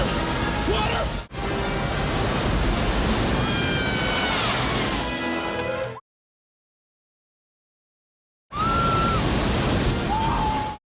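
Rushing floodwater in an adventure film roars as a dense, loud wash of noise, broken by a sharp crash and a silent gap before the torrent surges back, with faint voices and whistles over it.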